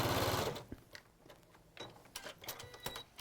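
Sewing machine joining quilt pieces, a short burst of fast stitching at the start followed by quieter clicks and handling noises, heard up close.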